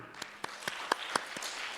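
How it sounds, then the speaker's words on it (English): A few scattered, faint claps at an international symposium on genetic resources, spaced roughly a quarter second apart, thin and distant rather than a full ovation. "please give him a round of applause"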